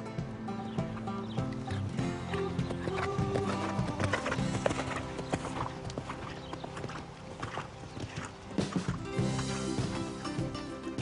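Hooves pound rhythmically as a horse canters in equestrian training, steady clip-clop beats close by over a busy background with a brief whinny-like tone.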